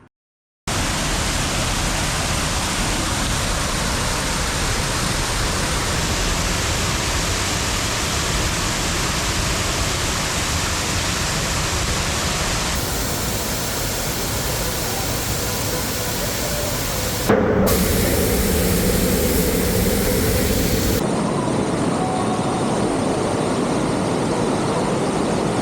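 The Thirubali waterfall at Ezhakkaranadu, Ernakulam, a dense, steady roar of falling water heard close and loud, unbroken from start to finish apart from a brief gap and shifts in tone.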